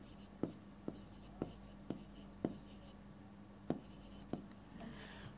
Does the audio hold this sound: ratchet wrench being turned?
no